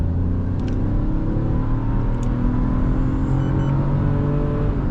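A Citroen C3 Aircross 1.2 three-cylinder engine with an automatic gearbox revs hard on a highway, its steady loud drone climbing in pitch, with a subtle shift as the gearbox changes up.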